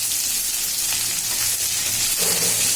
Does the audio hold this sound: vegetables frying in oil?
yes